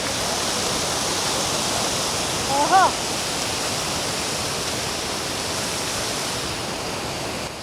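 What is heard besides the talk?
water rushing over Pocharam Dam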